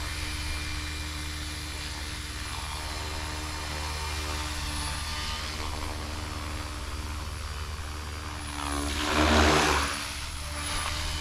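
A SAB Raw 420 RC helicopter at its lowest rotor head speed gives a steady, continuous rotor whine and hum, holding even throughout before a brief louder swell near the end.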